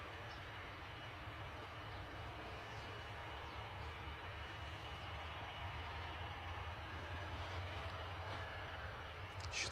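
Aircraft pass overhead at Bristol Airport, heard as a steady, distant, low jet rumble that holds evenly throughout and swells slightly near the end.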